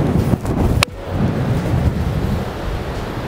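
Strong wind buffets the microphone on a golf course, a loud, continuous low rumble that gusts throughout, broken by a brief sharp click near the start, with no talking.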